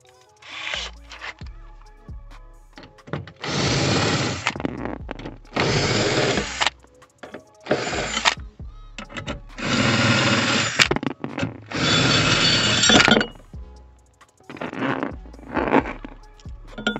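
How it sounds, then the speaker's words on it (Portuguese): A cordless screwdriver drill with a bit removes screws from a 2014 Fiat Grand Siena Attractive 1.4 during a heater radiator replacement. Several whirring bursts of one to two seconds alternate with short clicks and ratcheting taps, close up, with no talking. "que eu tenho aquela máquina parafusadeira, vou pôr o bit nela, número 10"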